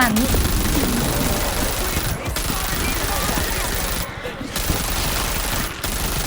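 Dense, sustained automatic gunfire in the zombie shooter World War Z: Aftermath, loud and continuous with only brief gaps, and a voice talking over the shooting.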